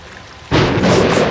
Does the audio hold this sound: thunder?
yes